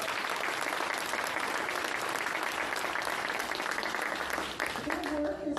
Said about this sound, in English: I would like you guys to give a round of applause to our council.